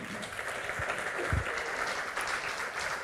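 A conference audience applauds a speaker after her talk, a steady, moderately loud wash of clapping from a room full of people with no voices over it.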